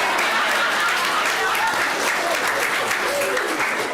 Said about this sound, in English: All right, you can clap for Ariana.